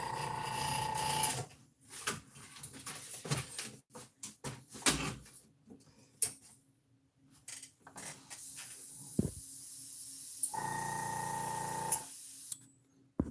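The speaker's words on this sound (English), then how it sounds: "Let's turn on our air compressor." Air compressor for an airbrush, used while painting a plastic model battleship kit: short motor run at the start, then quiet handling clatter, then a longer steady whirring spell before it stops.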